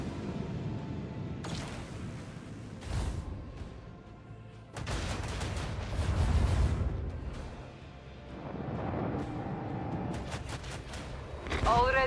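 Macro cannons firing on a warship in the space game Rogue Trader, several heavy booming blasts with rumbling low tails spread across the scene, a spoken line between volleys.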